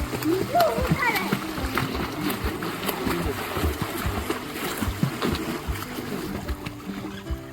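Water splashes and sloshes nearby as someone moves in a pond, with people talking over the irregular watery churning.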